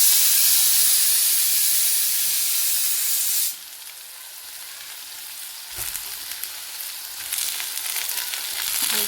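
Dried lentil dumplings (badi) roasting in oil in a pan, giving a loud steady sizzle and hiss that drops to a softer crackle, with occasional stirring scrapes.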